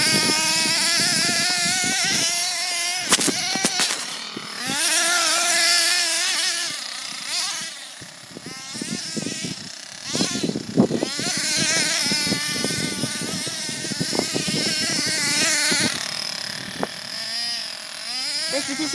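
A nitro-powered Mad Force Kruiser GP RC monster truck drives through snow, its small engine whining and revving loudly and continuously, with pitch rising and falling as it accelerates.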